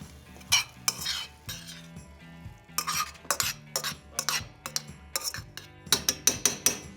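Shrimp folded through garlic butter sauce with fresh chopped parsley in a pan, giving repeated close scraping, stirring and utensil clinks over a soft sizzle, with background music throughout.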